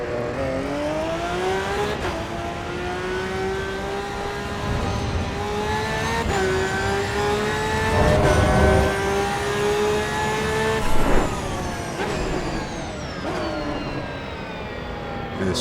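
Race car at Sebring in Assetto Corsa EVO: a loud engine screams up through the gears, with sharp shifts every couple of seconds, a brief rough burst around the middle, and steady high revving throughout with no talking.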